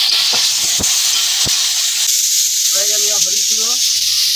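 Pointed gourd and potato curry sizzles steadily in a pan as it is stirred, a continuous bright hiss with a few knocks early on and a short stretch of faint voice or squeaky tone near the end.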